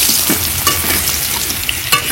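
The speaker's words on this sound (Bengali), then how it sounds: "সুন্দর ভাজা হয়ে গেল।" Turmeric-coated potatoes sizzle in a hot pan at an outdoor garden cookout, a steady close hiss broken by a few sharp clinks and scrapes of a spoon turning them.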